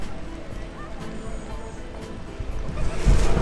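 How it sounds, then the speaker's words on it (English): A ferry out on the sea off the clifftop coast near Hope Cove, heard as a steady broad wash of water and wind that swells louder toward the end. "Ferry boat over there."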